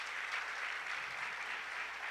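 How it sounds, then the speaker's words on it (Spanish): A church congregation at a Sunday service applauds, a soft, distant wash of many hands clapping evenly without pause. "Denle un aplauso al Señor"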